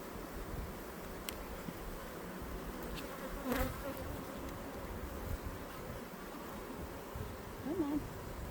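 A dense swarm of honeybees hums steadily around an open hive during a split, a continuous close buzz with occasional louder passes of individual bees near the microphone.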